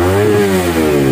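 A Suzuki GSX S motorcycle with a modified, hollowed-out stock exhaust revs hard, its engine note climbing in a single close, loud burst.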